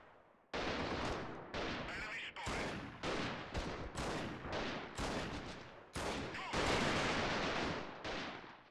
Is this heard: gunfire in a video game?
yes